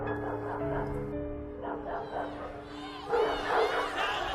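Hunting dogs bark and yip in a lively cluster under a murmur of crowd chatter, with several overlapping barks swelling louder near the end.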